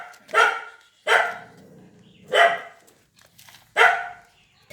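Dogs bark in four loud, separate bursts spaced about a second apart, close by and with no talk over them, recorded outdoors while a motorbike is being modified.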